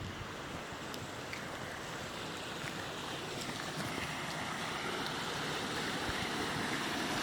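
Floodwater after heavy rain rushes past the side of a house like a river, a steady dense roar of churning water with constant wind-like hiss, fairly distant and unbroken, no talking.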